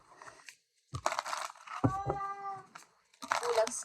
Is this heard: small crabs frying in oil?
no